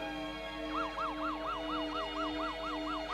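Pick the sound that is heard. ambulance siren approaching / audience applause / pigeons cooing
ambulance siren approaching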